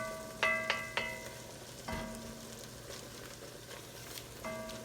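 Garlic and aromatics sizzle in a pan as a base for chicken tetrazzini, a steady frying hiss with a few sharp metallic clinks of a utensil against the pan, no talking.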